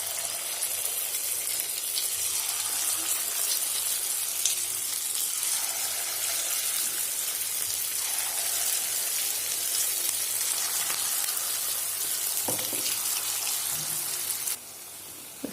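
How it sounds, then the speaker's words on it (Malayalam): Small balls of idli batter bonda sizzle in hot oil, a steady crackling hiss like light rain that continues throughout at moderate loudness, with a few soft utensil clinks near the end. "ഇനി മാവിനെ ചെറിയ ചെറിയ ഉരുളകളാക്കിയിട്ട് എണ്ണയിലേക്ക് ചേർത്ത് കൊടുക്കാം."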